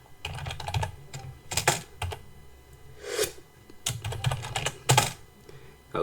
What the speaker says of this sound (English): now what we're going to do is type something just like this, because we want to kill the task